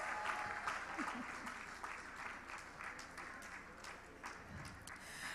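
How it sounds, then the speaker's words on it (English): Faint, steady applause from a panel audience fills the whole stretch, a dense patter of many hands at a distance, with no voices over it. "Please, a round of applause."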